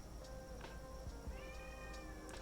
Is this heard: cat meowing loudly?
yes